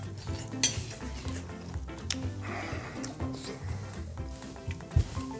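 Egg stirred into kkakdugi fried rice with beef in a hot pan, a spatula scraping and clinking against the metal over a steady sizzle, with occasional sharper taps.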